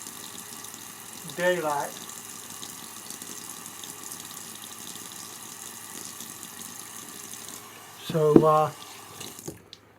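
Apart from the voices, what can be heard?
water running from a sink tap while rinsing a face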